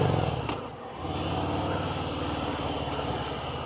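A Harley-Davidson Softail Fat Bob motorcycle engine growls steadily close by, a throaty exhaust rumble that dips briefly then settles into a continuous drone.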